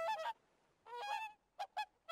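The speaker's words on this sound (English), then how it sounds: "They don't come down, they just fly overhead and make the little squawking noise that you hear." Geese squawk overhead in the video game Raft: a burst of nasal honks, a longer honking run, then three quick separate calls, all clear and fairly close.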